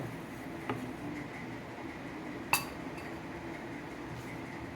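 A lid goes onto a cooking pot of steamed paneer over low heat, giving one sharp metallic clink after a fainter tap, against a quiet background hum.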